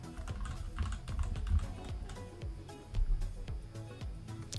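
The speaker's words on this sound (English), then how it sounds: "Should I keep this this keyboard, or should I go with the silent one from all my streams?" Fast, steady typing on a computer keyboard during a live coding session building a React.js web app, a dense stream of close, crisp key clicks and clacks with no talking.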